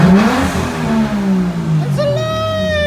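A Lexus IS300 fitted with a 1JZ engine revs loudly close by, its pitch rising and falling, then a sharp rising whine near the end. No one speaks.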